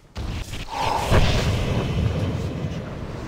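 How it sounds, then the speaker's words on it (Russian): A booming explosion, the third in a row, in a 10-player Ulduar raid in World of Warcraft: a short thump, then a heavy burst that rolls on as a dense, sustained rumble. "И третий, сука, взрыв."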